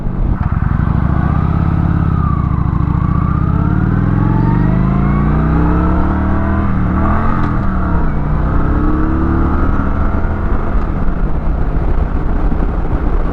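A Kawasaki Vulcan 900 Classic motorcycle engine loud and close while riding, its deep rumble rising and falling in pitch through gear changes and throttle swells, with steady wind noise.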